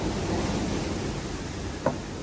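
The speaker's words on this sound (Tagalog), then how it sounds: "Ang lakas ng hangin sa labas." Continuous roaring wind rushes steadily, a broad noisy whoosh with one brief knock near the end.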